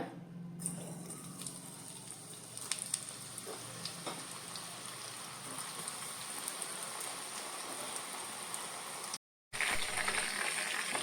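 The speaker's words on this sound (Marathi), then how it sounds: "आता आम्ही हिंगा एक कायलीत थोडे तेल गरम कर दवरला। आता मी हे सोया भाजून घेया।" Soya chunks fry in hot oil in a pan with a continuous, quiet, close sizzle and scattered small crackles, broken once by a short silence near the end.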